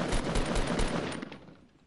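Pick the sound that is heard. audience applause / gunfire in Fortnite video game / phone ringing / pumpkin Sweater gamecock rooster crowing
gunfire in Fortnite video game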